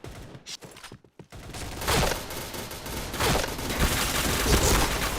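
Bursts of rapid gunfire ring out in the shooter game Point Blank, starting with a few sharp isolated shots, then rising into dense, sustained automatic fire.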